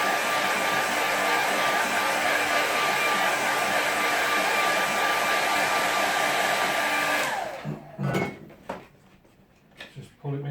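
A hair dryer blows loud and constant on a fresh painting on an easel for about seven seconds, then switches off, leaving a few clinks and light handling noises.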